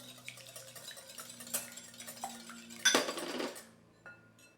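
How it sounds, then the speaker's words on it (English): An egg whisked in a medium mixing bowl, heard as clinking and tapping of a whisk against the bowl, with a louder burst of brisk scraping near the end, close and alone. "Now in this medium bowl, I'm going to add 1 egg. Just give it a good little whisk here."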